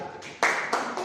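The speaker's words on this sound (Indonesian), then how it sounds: "Tepuk tangan untuk kategori A." A small class claps during a lesson, with a few short, close bursts of hand claps in quick succession.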